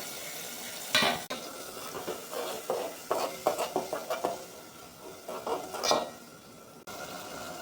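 Onions fry in a pan with cloves, cardamom, bay leaf and garlic-onion paste, a steady sizzle broken by repeated scraping stirs and light utensil clinks against the pot, fairly close with no talking.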